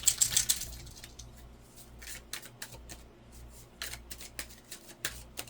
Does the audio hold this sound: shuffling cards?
yes